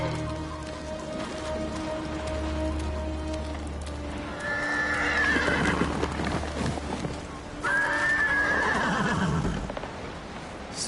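Horse Kaze in the video game Ghost of Tsushima neighs twice, two loud shrill whinnies several seconds apart, with hooves and steady rain in the background.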